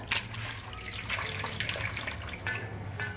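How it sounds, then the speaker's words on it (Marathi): Farm-grown spinach leaves are washed by hand in water, giving a steady splashing and running-water sound with bright sloshes and drips throughout, close and moderately loud, with no voices. "असा धुवून घेतोय आपण हा हे बघा आता सर्व पालक आपण धुवून घेतलेला आहे"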